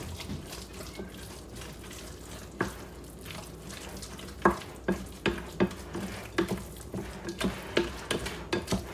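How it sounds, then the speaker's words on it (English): Pudding mix being stirred into chopped apples in a bowl, a series of wet, squishy spoon strokes and soft knocks that come in a quickening rhythm, close and fairly quiet. "I'm just gonna go ahead and make sure that I have all that pudding mix mixed in"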